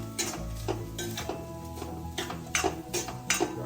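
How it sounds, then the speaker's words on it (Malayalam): Rice being stirred in a pan for a children's meal with fried egg, a spoon scraping and clinking against the metal in irregular strokes, with several sharper knocks near the end and no talking. "ഇനി ഇത് നന്നായി ഇളക്കി കൊടുക്കുക"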